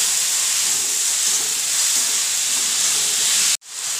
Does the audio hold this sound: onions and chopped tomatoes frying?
yes